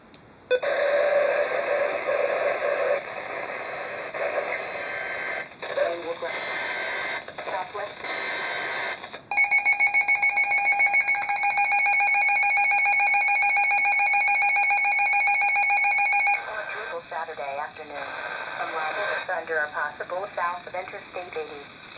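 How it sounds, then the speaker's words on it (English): A Midland HH54VP2 handheld weather radio sounding an emergency action notification alert: loud electronic beeping tones and a steady high two-tone alarm, followed by a synthesized voice reading the message, close up. "Just activated it for an emergency action notification"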